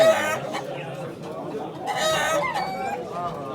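Chickens cluck and squawk close by in a busy flock at a poultry auction in Ankara, with people talking in Turkish in the background.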